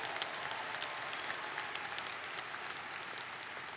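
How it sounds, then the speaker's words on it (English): Steady applause from a university commencement audience fills the hall, an even, continuous patter of many hands that sounds fairly distant and soft, with no talking over it. "Yes, big round of applause,"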